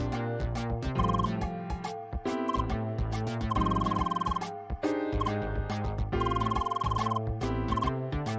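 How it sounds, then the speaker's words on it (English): Telephone ringing in the video game CrossCode, a repeating electronic ring pattern played over a steady synthesized melody and bass, loud and continuous, with no voices. "Look, just pick up that phone and just immediately scream Leah"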